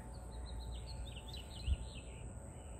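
Faint birdsong drifts from a distance outdoors, thin high chirps and trills over a low steady background hum.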